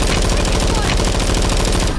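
Rapid automatic gunfire in the video game Call of Duty Warzone, a loud continuous burst of closely spaced shots filling the whole moment, with faint voice chatter underneath.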